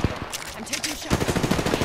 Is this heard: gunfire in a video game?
yes